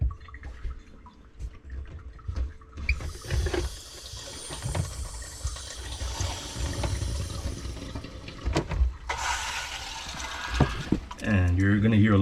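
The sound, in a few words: reverse osmosis water filters filling after water turned back on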